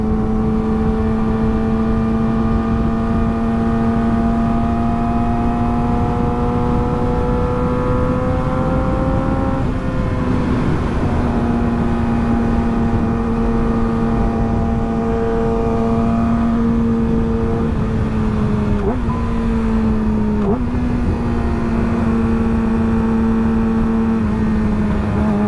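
A motorcycle with a quick shifter accelerates close by, its engine droning loud and steady as the pitch climbs slowly, then drops sharply with brief cuts at each upshift, with two or three shifts in quick succession.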